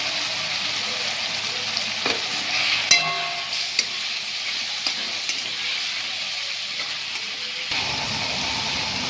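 Crab sautéed with ginger paste in a pan gives a steady frying sizzle and hiss, with occasional clinks and scrapes of stirring, close and continuous, with no speech.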